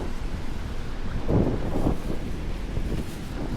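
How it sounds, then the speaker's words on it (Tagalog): Strong wind at a campsite on Lantau Island, Hong Kong, buffets the microphone in a steady low roar, swelling into heavier gusts partway through. "Lakas ng hangin."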